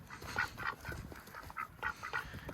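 Pet geese or ducks honk repeatedly in quick nasal bursts, close and fairly faint, several overlapping calls in a short burst.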